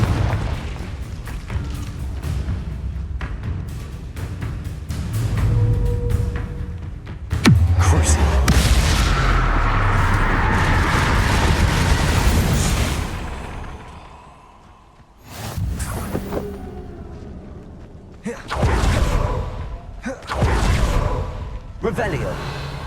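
Confringo blasting spells erupting as booming explosions in the Hogwarts Legacy video game, several heavy bursts with whooshes spread across a long stretch, some loud and sustained, others short and sharp, separated by quieter gaps.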